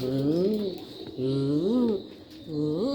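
Young Jacobin pigeons in a cage coo close up in three drawn-out, rising-and-falling phrases separated by short pauses.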